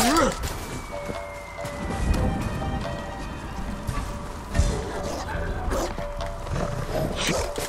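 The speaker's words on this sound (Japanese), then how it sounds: "犬がいる。" Guard dog barking at an enemy camp in the samurai video game Ghost of Tsushima, a few barks scattered among game sound effects and ambient noise, with a player talking over them.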